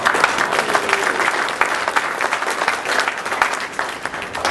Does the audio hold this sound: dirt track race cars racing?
no